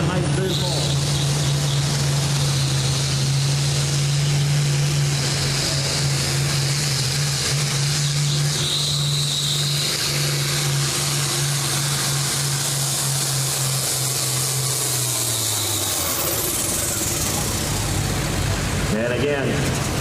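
An International 966 tractor engine pulls at a truck pull event in Urbana, Ohio, a loud steady drone with strong low rumble holding for about fifteen seconds before dropping off, amid constant crowd and announcer noise.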